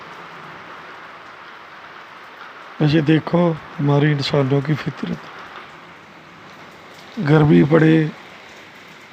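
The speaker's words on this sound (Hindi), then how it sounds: "बारिश तो तेज ही होती जा रही है।" Heavy rain falling outdoors, a steady broadband hiss that continues throughout while someone speaks in bursts over it.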